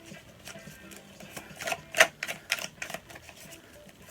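Tarot cards being shuffled by hand, a rapid run of crisp clicking and riffling taps that builds to a sharp peak mid-way and then trails off in scattered softer clicks, close up with no talking.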